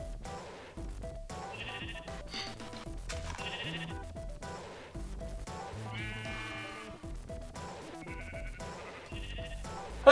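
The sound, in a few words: sheep bleating in the video game Minecraft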